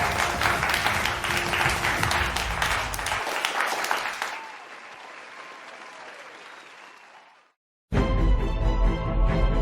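Audience round of applause at a youth awards event, brisk, loud clapping that thins and fades over several seconds into near silence, then loud sound abruptly returns.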